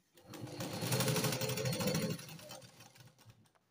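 A sewing machine runs a burst of rapid stitching through a blouse lining, loud and close for about two seconds, then slows and stops.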